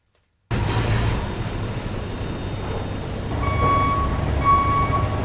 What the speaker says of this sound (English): leaving the vehicle in reverse gear with his reverse bleepers sounding